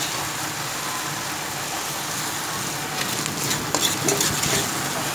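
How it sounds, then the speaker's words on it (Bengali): A spatula scrapes and turns cold cooked rice in a hot pan over a low flame to make fried rice, with a steady close sizzle and scraping strokes that grow busier toward the end. "এবার আমি নেড়ে চেড়ে দিচ্ছি ফ্রেন্ড"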